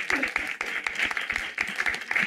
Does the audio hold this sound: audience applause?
yes